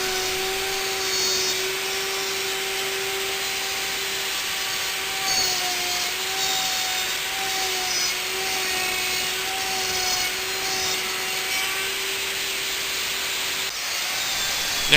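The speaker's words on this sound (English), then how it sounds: "I use once again my slot mortising machine to make a straight cut between the 2 round holes" A slot mortising machine cuts a straight slot in wood between two round holes, a steady loud motor drone with a constant tonal whine running throughout, nearby and without talk.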